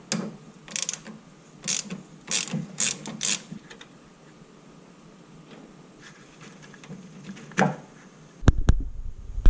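A ratchet works on subframe bolts under a Honda S2000 AP1, several bursts of quick clicking near and clear with pauses between them, then a clunk of metal at the end.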